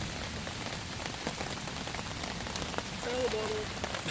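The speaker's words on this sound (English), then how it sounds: "we got slammed by heavy rains, wind, thunder, and lightning" Heavy rain pelts a campsite during a storm, a dense, constant hiss of drops on surfaces that swells slightly toward the end.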